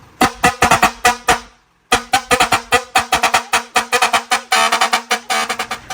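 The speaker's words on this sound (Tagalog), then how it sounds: "Fire air horn." A loud fire air horn mounted on a mini dump truck blasts in rapid, rhythmic bursts, pausing briefly before resuming a fast honking pattern, close and dominant.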